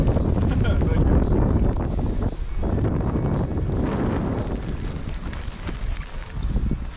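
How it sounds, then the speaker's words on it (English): Strong wind and rain lash a lake while a fishing boat sits on the water. Gusts buffet the microphone with loud, roaring bursts that rise and fall, and speech is faintly present. "Strong wind, a lot of rain."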